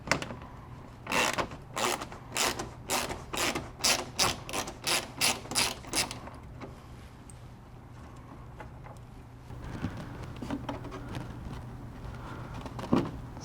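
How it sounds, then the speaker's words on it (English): A hand ratchet loosens a bolt on a 2016 Toyota Corolla during fog light replacement, giving a quick series of sharp, close clicking strokes for about six seconds, followed by quieter handling noises. "we're going to have to remove this 110mm bolt"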